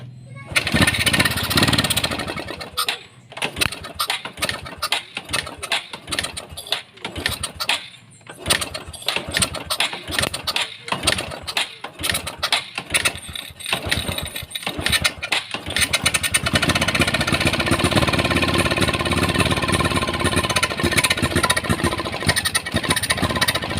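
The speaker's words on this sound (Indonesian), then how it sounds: "Starter udah tidak tahan, kita sela aja teman-teman" A Honda Supra X 125 motorcycle with a worn-out starter is kick-started repeatedly, giving choppy bursts of sputtering engine noise. Near the end it catches and runs in a loud, continuous, rough idle.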